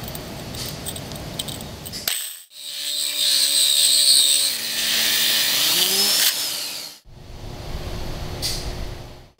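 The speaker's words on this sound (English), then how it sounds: "And begin drilling." An AGP tile core drill runs a water-fed bit into tile: a loud steady motor whine with a grinding cut, starting and stopping abruptly, with short pauses between runs.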